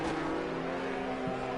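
An F1 race car in a video game roars steadily at high revs along the straight at the Belgium circuit, a sustained engine whine with a faint low thump near the end.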